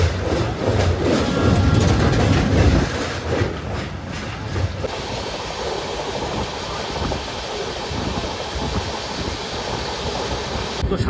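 Dhauli Express passenger train heard from inside a coach after leaving Shalimar, a loud continuous rumble and rushing roar with rattling carriage noise, heavier at first and then settling into a steady droning run.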